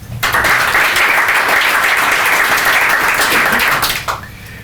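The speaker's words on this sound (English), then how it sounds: "please give them a big round of applause." An audience at a growth-hacker talk event applauds loudly and continuously for about four seconds before the clapping fades out abruptly.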